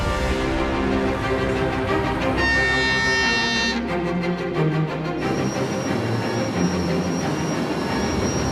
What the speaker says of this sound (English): 216 wagons are marshaled into a 3-kilometer-long train.